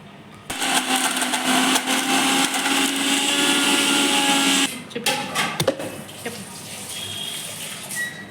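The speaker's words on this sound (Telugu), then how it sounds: "రెండు మిక్స్ చేసేద్దాం కొంచెం బాగా మిక్సీకి వేసుకుందాం" A mixer grinder whirs loudly for about four seconds, grinding henna (gorintaku) leaves into paste, then cuts off, leaving faint clatter and rattling from the jar.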